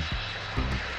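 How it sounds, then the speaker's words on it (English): An aeroplane engine drones steadily and loudly as a short sound effect, a continuous airy roar with slight pulsing and no voices. "Aeroplane."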